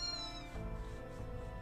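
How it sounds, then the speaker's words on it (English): A cat in Fate/Grand Order gives a single drawn-out meow, clear and close, followed by soft background ambience. "Was that a cat?"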